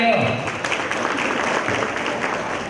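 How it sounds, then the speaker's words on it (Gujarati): Guests at a family reunion gathering clap for the village head while a voice speaks over the applause, which holds steady throughout. "સરપંચ માટે તાળીઓ"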